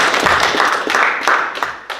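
Church congregation clapping at a midweek worship service, loud and close, with distinct individual claps standing out from a dense, uneven patter that thins toward the end.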